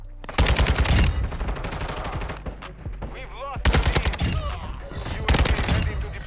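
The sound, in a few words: Kastov 762 rifle gunfire in a video game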